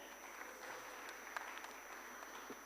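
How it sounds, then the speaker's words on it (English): Applause from a conference audience welcoming a panelist at a sustainability plenary, a faint, even patter of many hands clapping heard from a distance with a steady hum underneath. "So a round of applause to welcome Gaspar."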